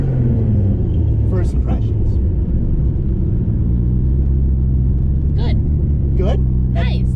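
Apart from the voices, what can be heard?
Nissan GT-R accelerating hard in first gear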